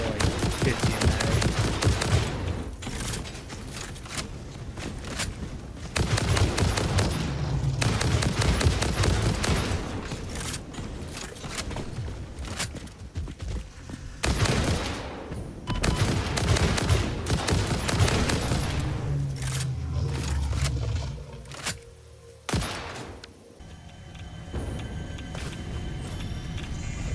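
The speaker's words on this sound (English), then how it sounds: "But we can test the rifle." Rifle fire from the factory-building game Satisfactory, a long-range weapon holding 15 rounds per magazine, crackles in loud, dense bursts of shots that repeat across the stretch with brief lulls between volleys.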